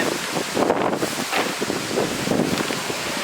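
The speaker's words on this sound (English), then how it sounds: "We decided to film outside, so it might be a little windy." Wind gusting across a microphone outdoors in Buffalo, New York, a steady broadband rumble with swelling buffets throughout, loud and continuous with no voices.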